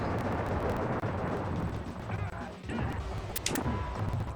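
Grenade blasts in the SNES game Iron Commando: a dense, continuous roar of rumbling explosions at low level, with a brief dip midway and a couple of sharper bright bursts near the end.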